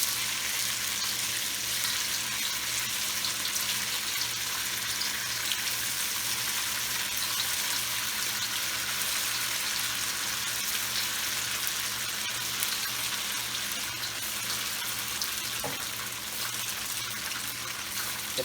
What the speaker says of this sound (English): Just gonna deep fry it.